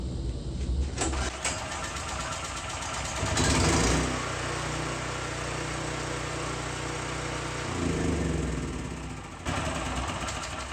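A cheap used portable generator, choke and fuel on, fires on one pull and settles into a loud, close, steady running drone, its pitch swelling briefly twice as the engine revs, with no voices.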